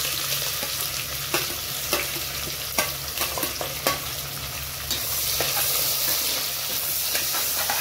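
Onions hit hot oil spiced with garam masala and black pepper for mutton white biryani, giving a steady loud sizzle with a spoon knocking and stirring through it, and the frying swells slightly near the end.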